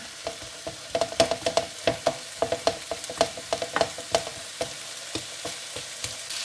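Sliced courgettes frying in a pan over medium heat, a steady sizzle broken by frequent sharp pops and crackles, close and fairly loud, with no talking.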